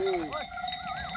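Male lambs bleat in short wavering calls close by, with a faint voice and outdoor farm noise in the background.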